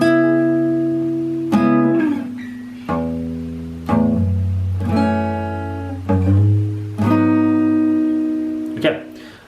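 Acoustic-style guitar playing the first part of a song slowly, single chords strummed about once a second and left to ring, each attack clear and close with no talking over it.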